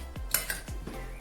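A metal utensil stirs a dish seasoned with chili and fish sauce, making a few quick clinks and scrapes against the bowl in close succession, fairly quiet and brief, with no one speaking.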